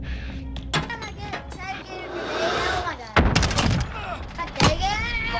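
Gunfire in Call of Duty Modern Warfare: sharp bursts of shots and several loud cracks in a busy multiplayer match, mixed with game voice callouts and people chatting over it.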